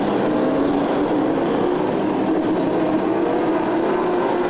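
Modified production speedway cars racing at Lismore Speedway at night, a dense continuous engine roar from the pack with no distinct gaps, loud and steady throughout and no voices over it.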